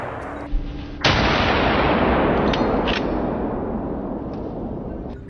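A gunshot rings out while hunting wild boars in a forest, one sharp, loud bang followed by a long, rolling roar that slowly fades.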